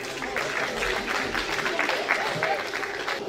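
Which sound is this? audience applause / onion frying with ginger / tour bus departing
audience applause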